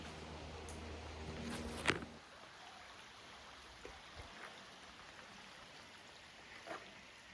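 The west branch of a river flows as a steady, soft, broad rush of water heard from nearby, with a few brief knocks and scuffs near the start and scattered faint clicks over the constant flow.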